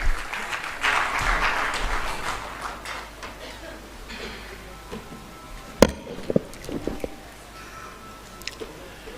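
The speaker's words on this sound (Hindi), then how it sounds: "जोरदार तालियों से आज की प्रथम व्याख्यान माला के लिए पद्म भूषण रजत शर्मा जी, अध्यक्ष इंडिया टीवी।" An audience at a lecture gathering applauds in a burst that swells then fades over the first few seconds, followed by scattered handling knocks and taps with quiet room background.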